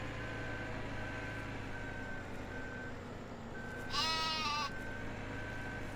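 A sheep bleats once in Farming Simulator 17, a short wavering cry rising over a steady mechanical hum and a thin electronic tone, with no talking.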